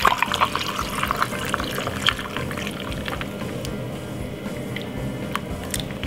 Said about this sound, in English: Now we're going to pour in that lovely cucumber juice.